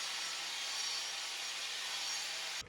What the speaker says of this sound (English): I'm going to try and use this blade to trim it up.